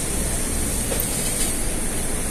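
Interior of a moving Tokyo Metro 6000 series train at night in Jakarta, a constant dense rumble and hiss of the carriage in motion, loud and steady with no speech.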